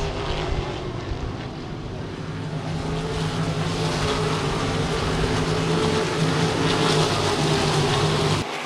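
Sprint cars race around a speedway oval in a 25-lap main event, a dense, continuous engine roar from several cars at once that carries across the track and holds steady throughout.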